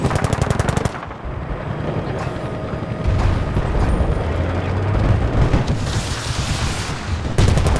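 Machine gun fire in an online shooter video game, loud rapid bursts of shots, a long string at the start and more bursts with booms and mechanical noise throughout, close and dense, with no talk.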